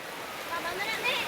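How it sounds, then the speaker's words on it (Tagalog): Heavy rain pours down with floodwater rushing nearby, a dense continuous wash of hiss and splashing, with people talking over it. "Grabe ulan guys, gabaha oh."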